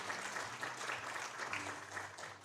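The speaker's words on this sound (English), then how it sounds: "Give him a big round of applause." Applause from a crowd at a state powerlifting championship, a continuous even wash of clapping that holds steady for a couple of seconds.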